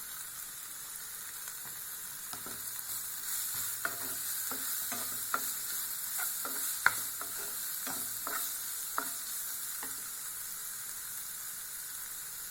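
Chopped tomato and green chili sautéing in a pan, a steady close sizzle broken by repeated scraping stirs and clinks of the spoon, with no talking.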